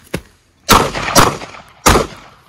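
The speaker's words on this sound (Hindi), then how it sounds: "अब ये मैं एम करके फायर नहीं कर रहा हूं, डायरेक्शनल फायर कर रहा हूं, लेकिन I am hitting the target." Gunshots fired by directional, unaimed shooting at targets during practice: a faint early pop, then three loud, sharp reports with echoing tails at irregular intervals, close and clear with no talking.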